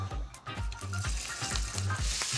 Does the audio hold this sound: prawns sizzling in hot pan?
yes